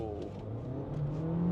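A Skoda Superb accelerates hard through the gears on a timed speed run, its engine note rising steadily and loud, a continuous close droning roar with no talk.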